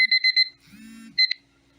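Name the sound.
alarm clock going off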